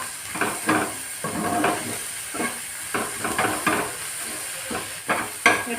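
Egg frying in a pan at home, a close sizzle and hiss with repeated scraping stirs and bursts of steam over a soft steady background.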